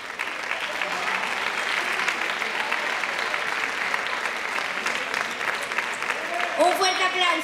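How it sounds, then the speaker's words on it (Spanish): Sustained audience applause at a school end-of-year theatre performance, dense steady clapping from a large crowd for the whole stretch, with a brief swell of brighter sound near the end. "Un fuerte aplauso."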